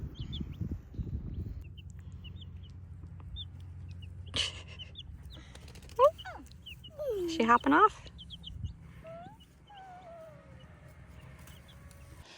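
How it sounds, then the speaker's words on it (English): Hens cluck and chatter in short bursts over a steady low hum, with birds chirping in the background and a person speaking briefly. "Got 12 new chickens, so we're up to 32 chickens."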